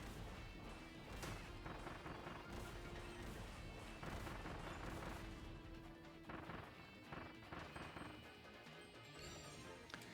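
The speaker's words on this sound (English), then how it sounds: "Oh, the explosions are multi-hit too." Explosions in the Kirby and the Forgotten Land video game burst loud and often, in quick multi-hit clusters of cracking blasts over a steady game background.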